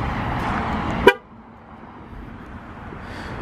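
A 2019 Infiniti QX60 answers its remote start with one sharp horn toot, and a low, steady engine idle carries on after it.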